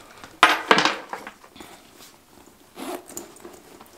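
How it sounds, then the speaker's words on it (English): A zipper is pulled along the back pocket of a nylon Rebecca Minkoff Julian backpack, two quick close rasping strokes followed by a softer third pull, with no talking. "The Julian pocket on the back actually zips from end to end,"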